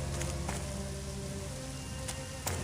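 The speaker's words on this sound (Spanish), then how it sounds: "con la lluvia que está cayendo" Rain falling on an island in the video game Agatha Christie: And Then There Were None, a dense, steady patter of drops on surfaces with a few sharper splashes, heard alone and fairly quiet.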